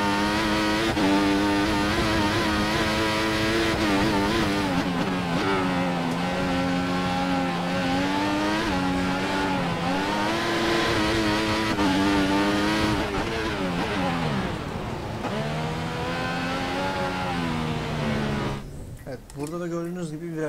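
F1 race car from F1 2014 lapping a circuit, its high-pitched engine whine climbing and dropping through the gears over about twenty seconds, loud and close. It fades out near the end.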